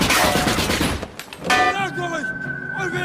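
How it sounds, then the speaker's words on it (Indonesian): Gunfire in a war film, a dense burst of rapid shots that breaks off, then rings out into echoing tones, loud and close, with talk mixed in. "ia menembak semua orang yang ada."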